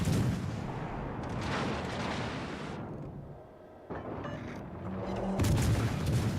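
Naval gunfire in the video game World of Warships Legends: heavy booming shots with rumbling tails, then a quieter lull before another loud salvo at the end.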